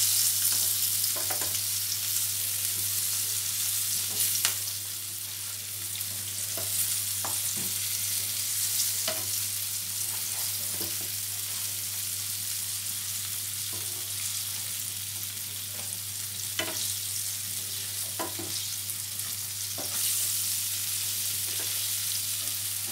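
Onions frying in a little oil while being stirred, giving a loud, constant sizzle with a low steady hum underneath and scattered scraping clicks of the spoon against the pan throughout.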